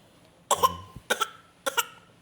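Three short, sharp throat-clearing coughs, evenly spaced and close, each a quick double burst with quiet in between.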